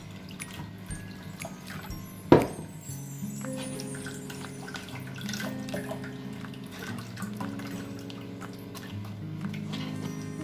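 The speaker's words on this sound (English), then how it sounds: "Just adding a little bit more water." Water is poured or runs from a tap into a kitchen blender or container of cucumber juice with lime and ginger, a soft trickling and dripping after a sharp clink, fairly quiet and with no talking.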